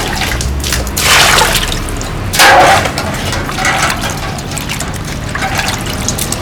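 Pickled cabbage being rinsed under running water, with splashing and pouring surges that swell and ebb in a few bursts over a steady wet background.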